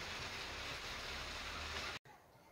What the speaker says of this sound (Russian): Легкий дождик. Совсем легкий дождик.